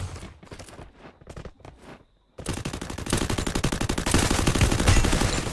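Rapid bursts of automatic gunfire in a video game custom match, starting as short separated volleys, then a brief gap, followed by a sustained loud rattling stream of shots.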